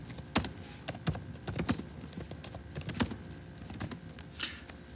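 Fingers typing on a computer keyboard while entering a Facebook photo tag, quick irregular bursts of crisp, close key clicks with short pauses between them, alone in a quiet room.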